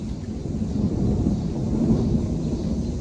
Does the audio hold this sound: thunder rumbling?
yes